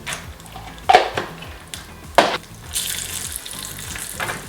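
Cashews and raisins frying in a pan, a soft sizzle under intermittent clanks and scrapes of a spoon against the metal pan, with two sharp knocks and bursts of stirring between them.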